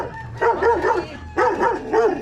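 A dog barks in two short bursts of yelping, whiny barks, fairly close, with a brief pause between them.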